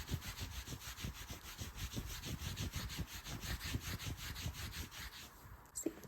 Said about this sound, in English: just rubbing down the arm